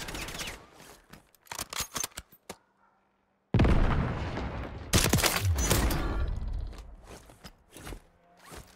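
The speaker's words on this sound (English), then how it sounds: "That's a Warzone 1 gunfight right there." A gunfight in the video game Warzone: sharp close bursts of gunfire and loud shots in quick clusters, a brief silent gap, then a dense, loud volley followed by scattered single shots.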